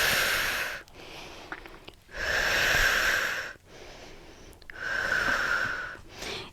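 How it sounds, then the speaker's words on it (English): Three strong, forceful exhales during a Pilates breathing exercise, each a loud breathy rush lasting about a second, spaced by quieter inhales and pauses, close to the mic with no talking. "We want to keep the breath flowing just like in yoga, but a little powerful exhale."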